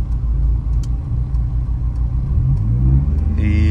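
A car engine rumbling and revving steadily during a driving lesson, with the pitch rising as the learner presses the accelerator and a brief higher whine near the end, close and loud throughout.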